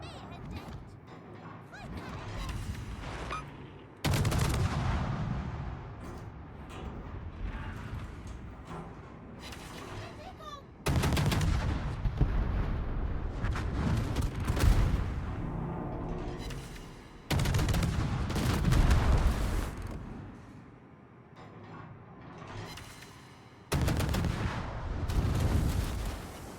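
Heavy naval guns firing armor-piercing shells in a warship battle game, loud booming salvos arriving in four separate bursts of several seconds each, with continuous game noise between them.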